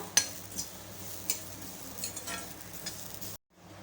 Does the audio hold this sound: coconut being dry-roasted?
yes